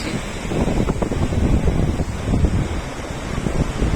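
Ocean surf at Puri's golden beach, a constant roar of breaking waves mixed with gusting wind buffeting the microphone, loud and close with no speech.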